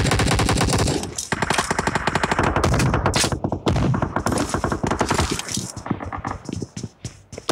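Dense automatic gunfire in the mobile shooter Battlegrounds Mobile India, loud rapid bursts of shots one after another with brief gaps, continuing nearly throughout with no speech.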